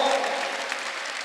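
A Korean church congregation clapping during a Sunday worship service: a brief, even wash of many hands close by, lasting just over a second.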